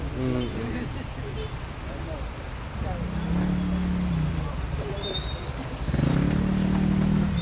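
Steady rain patters down continuously, with a buzzing hum swelling in and out and a few voices speaking quietly over it.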